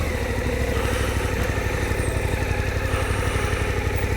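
A motorcycle engine putters steadily at low revs as the bike is turned around near a churchyard in the Welsh Borders, close and even, with no talk.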